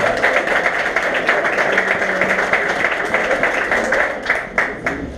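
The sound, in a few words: applause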